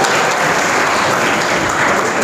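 College students clapping for themselves at a funny and serious poetry event, a loud, dense burst of applause filling the room without pause.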